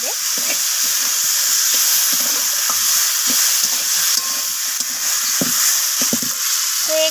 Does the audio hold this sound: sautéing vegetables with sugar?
yes